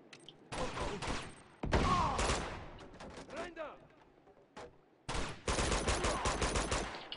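Bursts of automatic gunfire from the video game Uncharted 2, loud rattling volleys broken by short gaps, with someone speaking over the action.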